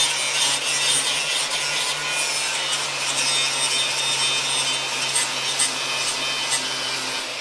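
A grinder cleans scale off a steel frame rail of a crew cab Charger, giving a continuous harsh abrasive rasp with a steady motor hum, close and uninterrupted.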